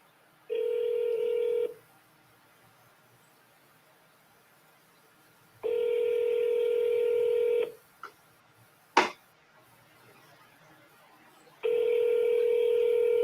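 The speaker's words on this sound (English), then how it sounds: "Let me do the Joey Bibbo double dial." Telephone keypad dialing tones sound in three separate steady bursts, each a bit over a second long, with quiet gaps between them and a couple of sharp clicks in the middle.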